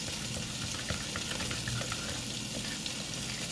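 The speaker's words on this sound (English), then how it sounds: "And then I'm just going to stir this up." Honey garlic glaze being stirred in a pan, a steady soft sizzle with faint scraping and a wet, bubbling texture running evenly throughout, no voices.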